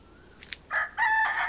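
A short rooster crow rings out in a garden, a brief clear call preceded by a couple of faint clucks, moderately close and alone.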